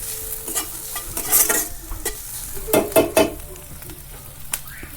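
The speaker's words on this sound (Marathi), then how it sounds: "कांदा पण परतत आलेला आहे असं गुलाबी रंगावर परतून घ्यायचा" Onion sautéing in a pan while being stirred, a close sizzle with scraping spatula strokes and clinks in bursts, the frying continuing quietly between them.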